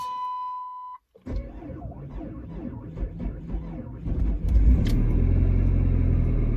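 An old daily-driver car starts on a minus 21 degree morning: a short beep, a cranking start, then the engine idling rough and growing louder, with a power steering pump noisy from the cold.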